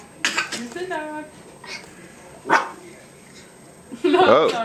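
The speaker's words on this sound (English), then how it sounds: "It's the dog." A dog barks and yips several times in short bursts, with a whimpering tone, close by and mixed with people talking.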